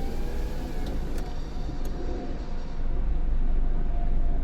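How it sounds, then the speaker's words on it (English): A truck drives ahead on a road near Seattle, a steady low rumble of engine and tyres heard from inside a moving car, fairly quiet and even with no talk. "the noise is from that truck in front of us, and even it's quiet."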